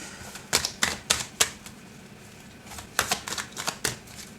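Tarot cards shuffled in two short clusters of quick, snappy clicks with a pause between, close but fairly soft over a faint room hiss.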